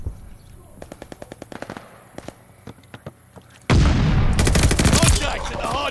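Gunfire in Call of Duty during a Hardpoint match: sharp separate shots and short automatic bursts, then a sudden loud, dense barrage of continuous fire and blasts that runs to the end, with no voices.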